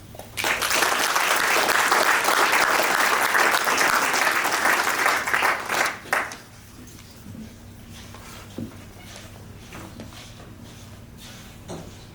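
A lecture-hall audience claps steadily and loudly for about six seconds to welcome an economics lecturer, then the applause fades into quiet room noise with a few faint knocks.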